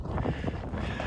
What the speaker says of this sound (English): So, yeah, still really windy